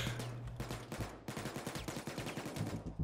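Rapid automatic gunfire during a Payday 2 heist, a dense run of sharp, evenly spaced shots that pauses briefly and then resumes in a steady, close, loud stream with no talking.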